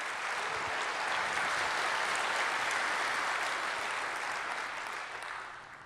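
Audience applauding city council members at a public affairs meeting, dense sustained clapping that holds steady and then begins to taper off at the end.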